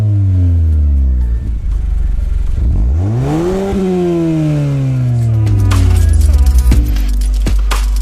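A 2017-or-later Mazda CX-5 fitted with a CorkSport 80mm axle-back exhaust revs up and settles back, a close, loud engine note rising and falling through several throttle blips before a deeper idle.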